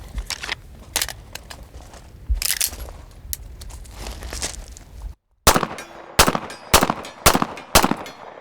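A Stealth Arms Platypus 1911 pistol fires a string of sharp, loud gunshots at uneven spacing, with a brief silent gap before several more shots follow in quick succession, close to the listener.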